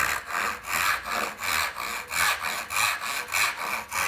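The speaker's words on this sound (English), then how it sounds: "cut this off with a crosscut saw" A crosscut saw cuts through wood for a dovetail box, with steady back-and-forth strokes of about two per second, close and clear with no talking.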